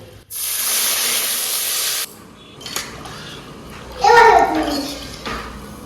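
Water poured into hot oil with bay leaf and dried chillies bursts into a loud, steady hiss and sizzle for about two seconds, then settles quieter as someone talks in the background.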